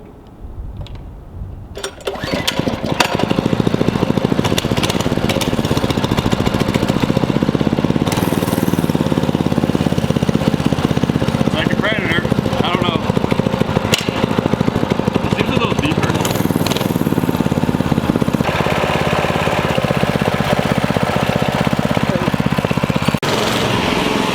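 A Predator 224 small gasoline engine is pulled over and catches after a couple of seconds, then runs loud and steady at a constant throttle for the rest of the stretch.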